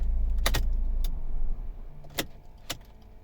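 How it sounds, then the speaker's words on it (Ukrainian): Car keys jangle and clink in a few short, bright bursts close by, following a low engine-like rumble that fades out, from a 2012 Volvo V50 1.6 D2 diesel. "Два ключі."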